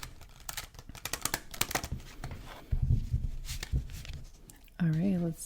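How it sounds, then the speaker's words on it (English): Tarot cards are shuffled close to the microphone in quick, crisp riffles and taps. A soft voice joins in near the end. "Do one more shuffle."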